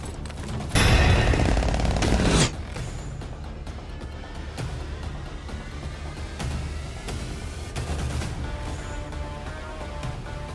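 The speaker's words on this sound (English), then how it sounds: "This is the Mini Uzi" A Mini Uzi in Call of Duty fires one loud, dense automatic burst of under two seconds, followed by scattered distant gunfire and rattling clatter.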